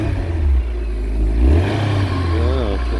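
An MG TF car's engine fired by a newly fitted starter motor, a few seconds of low engine rumble that swells and settles, close up, with a voice speaking briefly.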